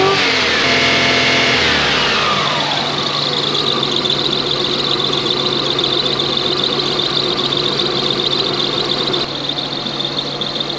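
A Lexus SC400 engine runs close by with a misfire after a fuel pump change, first revving and then holding a loud, continuous idle with an uneven, stumbling beat.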